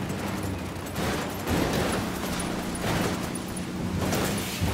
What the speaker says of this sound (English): Cartel soldiers nearby. Opening fire.